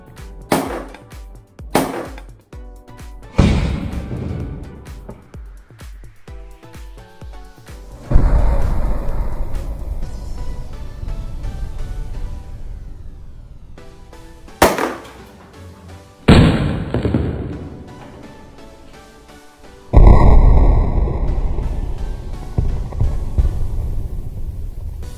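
An EGLM toy grenade launcher fires in a shooting test, a series of sharp pops and louder bangs spread out over time, several followed by lingering hissy decay and rumble, close and loud with no speech.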